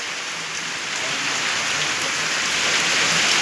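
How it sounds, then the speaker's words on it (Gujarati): Hail and heavy unseasonal rain fall at midafternoon in summer, a dense, steady hiss of drops pattering on surfaces that grows slightly louder, with no voices. "કરા પડે કરા."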